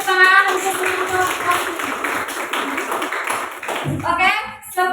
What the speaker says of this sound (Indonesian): Mari tepuk tangan untuk penutup.